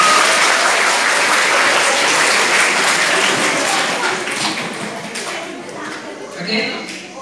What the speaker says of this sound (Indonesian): Tepuk tangan dulu kalian semua.